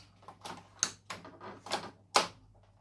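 The piston of an M61 Double Eagle airsoft sniper rifle rearms in a series of sharp mechanical clacks and ratchety clicks, about five close, distinct knocks in quick succession.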